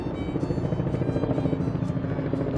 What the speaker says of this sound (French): il y a les bruits des hélicoptères et des avions à la limite